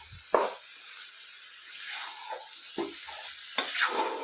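Chicken masala for a homestyle Kerala chicken curry sizzles and fries in a pan in a home kitchen while being stirred, with a few sharp scraping strokes standing out above a steady background sizzle.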